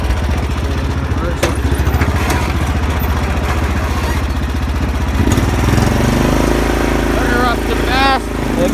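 A lawn mower tractor engine cranks and fires up, settling into a loud, rough, steady idle with rhythmic low clatter, then the revs change partway through; a faint voice briefly sounds near the end.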